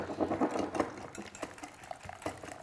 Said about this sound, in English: Then I'm gonna whisk it.